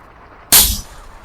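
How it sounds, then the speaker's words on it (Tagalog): A single sharp crack from a PCP air rifle fired outdoors in the rain, loud and close, with a short low thump trailing off, alone against faint background hiss. "Bigyan lang natin to ng 5 putok"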